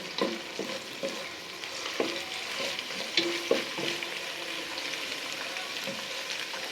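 A spoon stirs onions frying in a pan, with soft scrapes and clinks at irregular moments over a continuous low sizzle, close and fairly quiet.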